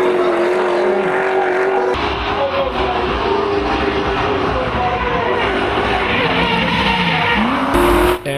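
A Nissan S14 drift car fitted with a BMW V8 engine roars at a drift series event, loud and sustained with shifting engine pitch and tyre noise. A commentator talks over it.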